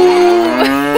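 A single long moo, loud and close, with a steady voiced tone that slides slightly downward over about a second. It could be a voice imitating a cow.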